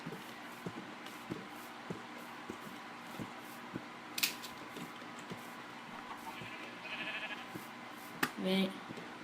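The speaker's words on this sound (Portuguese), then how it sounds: "Ô, ovelha." Sheep bleating in the Minecraft video game, a few short bleats late in the clip over quiet background game noise and faint clicks, with a person talking intermittently.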